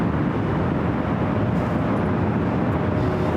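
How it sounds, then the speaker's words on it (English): A United Airlines Boeing 777-200 takes off from the south side of LAX, a steady, dense roar of jet engine noise holding constant throughout without any voices. "777-200 taking off on the south side"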